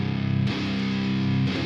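Heavily distorted modern metal electric guitar from free VST amp plugins, panned left and right, a thick sustained chord ringing, cut briefly then restruck, loud and dense with no voice.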